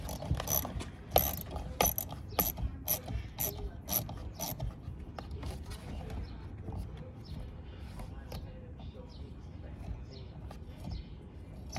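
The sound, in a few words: ratchet with 10mm socket removing Porsche Cayman fan motor bolts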